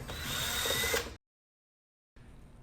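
Power driver running screws in while mounting equipment for a Videotel Digital XEON system: one loud steady whirring burst of about a second, then silence, then a fainter start at the end, no talk.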